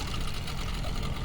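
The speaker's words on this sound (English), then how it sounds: "You want to turn the engine off?" An amphibious water car's engine runs steadily at idle, a dense low rumble with a faint mechanical rattle on top, fairly close and without talk.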